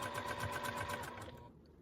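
A sewing machine stitches elastic onto mesh fabric, running in a steady rapid mechanical chatter up close before stopping abruptly near the end.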